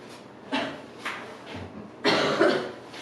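A person coughs several times in quick succession in a classroom, a few short dry bursts at close range in an otherwise quiet room.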